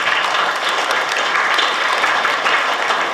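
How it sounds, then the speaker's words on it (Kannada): Steady, dense applause from an audience at a school Yakshagana training inauguration, honouring the Yakshagana team; continuous loud clapping with no talk. "ಅವರಿಗೆ ನಾವು ಒಂದು ದೊಡ್ಡದಾದ ಚಪ್ಪಾಳೆಯನ್ನು ತಟ್ಟಬೇಕು ಅಂತ ಕೇಳಿಕೊಳ್ತಾ ಇದ್ದೀವಿ"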